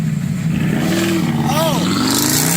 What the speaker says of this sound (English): A rev off.